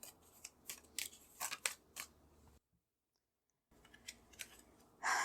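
Tarot cards pulled from a deck, a string of sharp close card snaps and flicks, then a second of silence before more shuffling and a louder rustle at the end.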